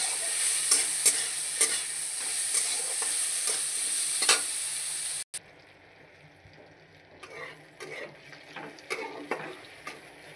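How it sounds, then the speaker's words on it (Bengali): Potatoes and eggplant fry with salt and turmeric in a pan: a loud, steady sizzle with occasional stirring scrapes, then after a cut a quieter hiss with clearer stirring and clinks. "নুন দিয়ে হলুদ দিয়ে একটু ভাজি করব।"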